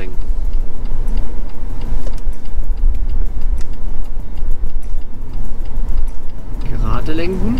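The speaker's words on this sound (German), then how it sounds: "Blinker links" A car's left turn-signal indicator ticks in a steady regular rhythm inside the cabin during a first driving lesson, heard under engine rumble with a voice speaking near the end.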